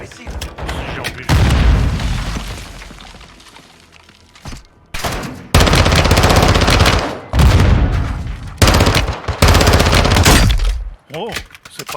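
Gunfire in the Modern Warfare 2 campaign, loud bursts of automatic fire and booming shots in several long volleys separated by brief lulls, close and dominant.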